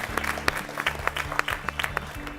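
Scattered, moderately sparse clapping from a school quiz show audience applauding a team, individual claps distinct over a low steady hum from the hall's sound system.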